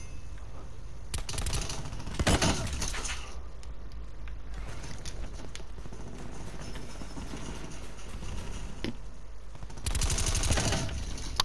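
Gunfire in Call of Duty: Black Ops 4, several bursts of rapid automatic shots, with one cluster early and a loud stretch near the end, separated by quieter sporadic shots and game noise.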